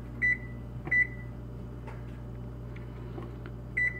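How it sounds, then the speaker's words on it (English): An oven timer is set with a few short, clear electronic beeps, two close together near the start and one more near the end, over a steady low kitchen hum with faint clicks between. "So I'm gonna set this timer."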